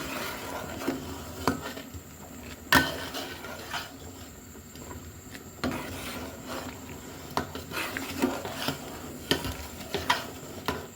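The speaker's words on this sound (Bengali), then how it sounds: "এবার আমি এগুলো দুধ আর গুড়ের সাথে মিলিয়ে নিচ্ছি" A spoon stirs cooked rice through milk and jaggery in a pot for rice payesh, with soft repeated scraping and occasional sharper clinks against the pan, steady and close, no talking.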